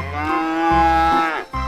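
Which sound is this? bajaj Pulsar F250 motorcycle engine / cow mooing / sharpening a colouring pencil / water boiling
cow mooing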